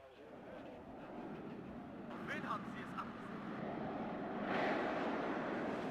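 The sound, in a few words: Harrier jet aircraft in video game WARNO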